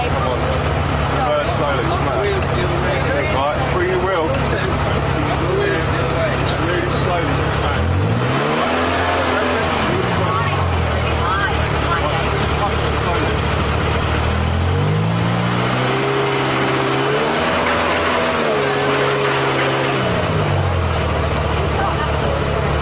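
A car drives, then slows and reverses, its engine a steady close drone with two rising-and-falling revving sweeps as it manoeuvres; people talk over the engine throughout.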